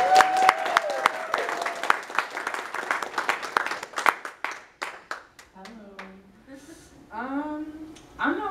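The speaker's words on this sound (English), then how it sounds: "You can keep clapping." An audience at a poetry festival applauds, dense clapping that thins into scattered claps, with a speaker's voice coming in over the fading applause.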